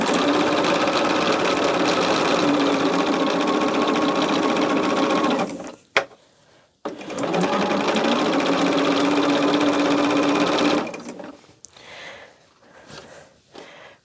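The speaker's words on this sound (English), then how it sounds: "I'm just putting them together and sewing" Sewing machine stitching scrappy jelly roll quilt squares into rows, running steadily and close for several seconds, stopping briefly, then running again before falling quiet.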